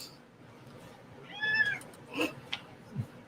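A cat gives one drawn-out meow followed by a few shorter, fainter vocal sounds, heard close but quiet over low room noise.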